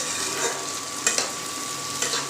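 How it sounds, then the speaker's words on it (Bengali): Onion and tomato fry in a pan with whole green chillies for a home-style chicken dish, a continuous soft sizzle with a couple of brief stirring scrapes. "পেঁয়াজ টমেটোটা ভাজার সময় আমি এতে কিছু কাঁচা লঙ্কা অ্যাড করে দেব।"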